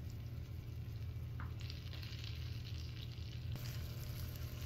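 Chicken browns in a pan of butter and olive oil for chicken piccata, giving a constant, even sizzle and fry that stays quiet and close with no talk over it.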